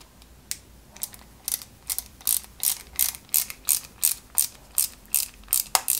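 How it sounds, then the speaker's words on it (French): Small screwdriver driving two silver screws into a 1/8 scale model cylinder head, a regular series of crisp ratchet clicks, close and distinct, speeding up toward the end with no voices. "on fixe ça, tout simplement, avec les deux vis, ici."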